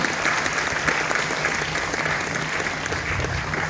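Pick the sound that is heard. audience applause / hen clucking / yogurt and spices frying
audience applause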